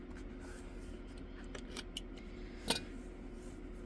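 Scissors snip close by in a quiet room, a few sharp crisp cuts spread over a few seconds, the last one loudest, with a faint hum in the background and no talking.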